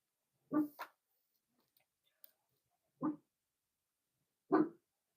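A dog barks at someone near the door: three separate sharp, close barks spaced a couple of seconds apart, with silence between them and a faint click or two.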